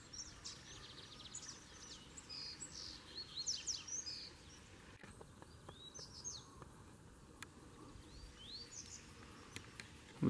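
Coleiro birds singing outdoors, with repeated short chirping phrases scattered across the clip over a steady background hiss, fairly faint and distant.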